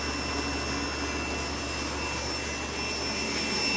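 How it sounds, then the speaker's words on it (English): The electric motor of a 1975 Vanguard Sebring Citicar runs while on a charger, giving a steady, even whine and hum with a constant low drone and no talking. "Motor sped up a bit."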